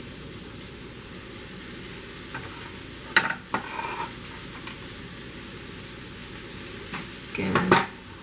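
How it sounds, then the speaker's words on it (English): Pumpkin seeds and collards tipped into a pan of veggie-tofu stir fry, soft sizzling under scattered utensil scrapes and clinks, with a louder rattle near the end. "I'm going to add the pumpkin seeds and the collards now"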